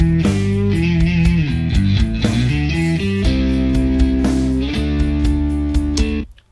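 Distorted rhythm electric guitars play a dense, saturated riff with chord changes throughout, then stop abruptly at the end.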